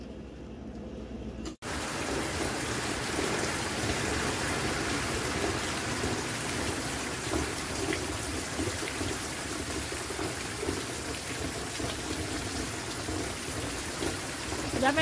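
Steady, dense rain pours down at a small farm in a loud, continuous hiss that begins abruptly after a brief quiet moment and keeps up without a break, with no voices heard.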